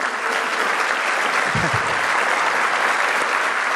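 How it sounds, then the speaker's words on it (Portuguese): A full round of audience applause for an executive's remarks on hiring, a dense wash of many hands clapping at a steady, loud level from start to finish. "eu gostaria de uma salva de palmas"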